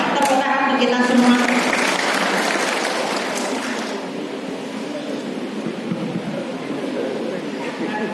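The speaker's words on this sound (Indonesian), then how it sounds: "Tepuk tangan untuk kita semua." Applause from an audience at a health-preparation session for Hajj pilgrims in a large mosque hall, a dense wash of clapping that starts strong and slowly thins out over several seconds.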